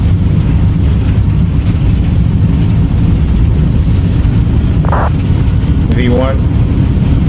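Airliner engines run at takeoff thrust in Microsoft Flight Simulator, a loud, steady low roar that fills the whole stretch, while cockpit voices call out over it.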